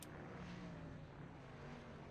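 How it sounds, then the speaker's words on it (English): Race cars in a stock-car racing video game (Xfinity Series) roar past together, a steady broad engine drone with faint tonal whine, moderately loud and continuous throughout. "Well, 3 cars scooted by."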